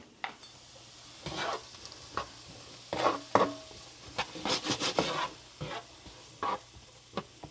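Vegetables with minced garlic cooking in a HexClad skillet, heard as scraping stir strokes and bursts of sizzle that come and go over several seconds, close and moderately loud, with no talk.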